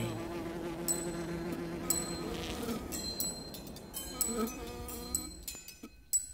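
Bees buzzing at flowers, several insect drones overlapping at close range with changing pitch as they hover and pass, faint and unbroken throughout.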